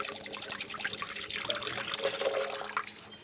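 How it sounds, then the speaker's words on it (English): Coconut water is poured into a blender, a steady liquid trickle and splash running for a few seconds, fairly soft and close. "we're going to pour in about 400 millilitres of coconut water as a base"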